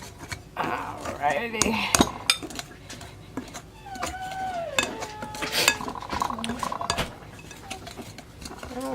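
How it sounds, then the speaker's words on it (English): Butter being mixed into scone dough in a bowl, with scraping and clinking of utensils against the dish while a person talks over it. "you just keep mixing the butter in until it's nice and crumbly"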